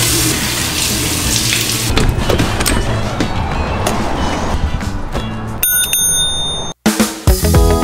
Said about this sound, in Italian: Intanto riempio anche di acqua questa che è vuota.